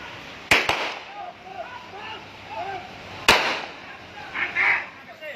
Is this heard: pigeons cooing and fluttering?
no